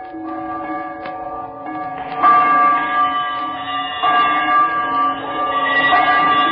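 A swinging bell rung as a sound effect in an old-time radio drama of A Christmas Carol, a sustained ringing tone that strengthens in waves, loud and alone with no talk.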